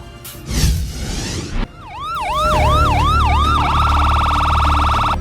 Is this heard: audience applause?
no